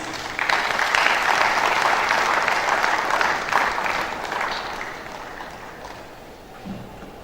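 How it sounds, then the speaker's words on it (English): A crowd applauds steadily for several seconds at a Nigerian national estate surveyors' conference, the clapping dense and fairly loud before gradually fading out. "A warm applause, please."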